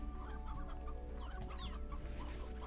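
Chickens cluck in the farming game Slime Rancher, a busy close-up flurry of short clucks and chirps over a constant low background hum.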